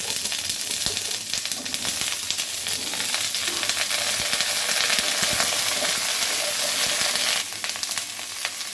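Cauliflower pieces frying in oil in a wok, giving a dense, loud, unbroken sizzle and crackle heard up close, with faint occasional stirring and no speech.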